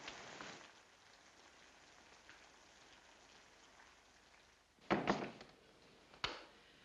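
Rain falling outside as a soft, steady patter. A couple of louder thuds near the end sound like a door, and no one speaks.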